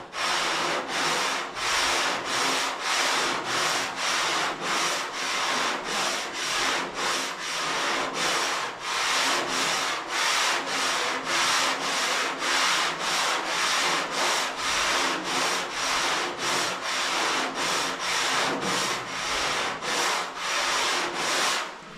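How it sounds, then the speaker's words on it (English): Sanding a small low spot out of car bodywork by hand, a steady rhythmic rasp of strokes back and forth, close and continuous for the whole stretch with no talking. "So I can take this and I can sand that out of there."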